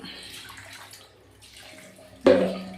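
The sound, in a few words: water being poured onto a dirty item before scrubbing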